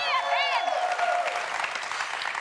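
A short burst of audience clapping and cheering, moderately loud, with some voices mixed in as it fades slightly.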